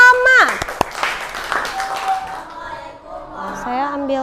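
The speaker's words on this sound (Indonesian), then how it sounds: "Beri tepuk tangan kepada kelompok PD Baik yang mau tampil pertama" Classroom applause for the student group PD Baik as they step up to present first: a short burst of clapping mixed with excited voices, fading into chatter.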